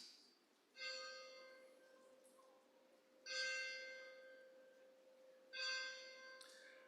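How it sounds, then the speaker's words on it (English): A ceremonial bell rings three times at a school of education graduation ceremony, each strike a clear harmonic tone decaying slowly over a steady sustained drone, spaced a few seconds apart in a large open setting. "let's open the ceremony with the ringing of the bell"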